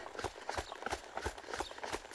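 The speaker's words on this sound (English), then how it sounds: "It's hard on us to have to ride this trot through this fast and craziness" A young horse trots fast in an arena warm-up, giving a quick, regular clip-clop of hoofbeats that sounds faint and slightly distant.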